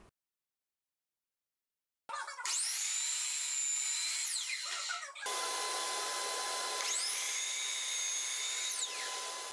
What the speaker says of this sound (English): I go over to my miter saw and I cut down that width with a piece of pine